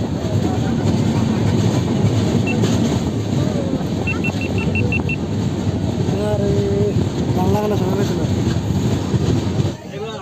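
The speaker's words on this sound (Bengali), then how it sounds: "আমাদের ট্রেন মেচেদা স্টেশনের চার নম্বর প্ল্যাটফর্ম থেকে ছেড়ে চলে যাচ্ছে" A Tamralipta Express passenger train leaving Mecheda station rumbles steadily along the rails with a constant loud roar, faint squeals and clicks, and voices talking underneath.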